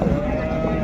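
A short, low moo from a dairy cow with a calf, close and steady, lasting under a second.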